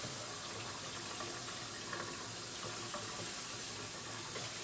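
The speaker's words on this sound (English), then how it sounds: "So here we're going to put a bowl of somewhat hot water in the sink." Somewhat hot water runs steadily from a tap into a bowl in a sink, a continuous close splashing hiss with no talk over it.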